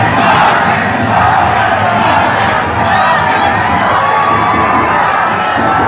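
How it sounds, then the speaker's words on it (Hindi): A huge crowd lines both sides of the road at Prime Minister Modi's roadshow in Coimbatore, producing a dense, loud, unbroken roar of cheering and shouting voices. "पीएम मोदी कोयंबटूर में रोड शो कर रहे थे और पीएम को देखने के लिए, अपने कैमरे में कैद करने के लिए सड़क के दोनों तरफ भारी भीड़ थी"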